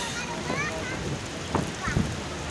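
Rain patters and splashes steadily, with a couple of brief louder splashes and faint voices in the background.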